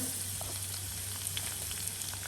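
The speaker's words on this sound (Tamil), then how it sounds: "வெள்ளைப்பூடு எல்லாத்தையும் போட்டு மெல்லிசா மெல்லிசா வாட்டி போட்டு" Potato, onion and garlic sautéing in a pan give off a steady, even sizzle close up with faint scattered crackles and no voices.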